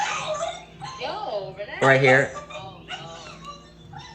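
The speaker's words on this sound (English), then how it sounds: "That's the dog." A dog yips, whimpers and lets out a sharp bark close by, with short high cries scattered across the moment while a person talks over it.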